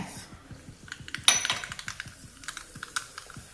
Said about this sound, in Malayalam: ചൂടായ വെളിച്ചെണ്ണയിലേക്ക് കടുക് ചേർക്കാം.